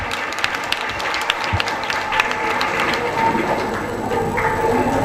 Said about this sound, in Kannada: ಅವರಿಗೆ ಜೋರಾಗಿ ಚಪ್ಪಾಳೆ ಕೊಡಿ.